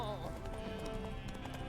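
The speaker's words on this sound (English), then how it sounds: "Spooking my horse." Roach, Geralt's horse in The Witcher 3, whinnies in fright at a ghost, a short quiet neigh over faint hoof clops and a soft game music bed.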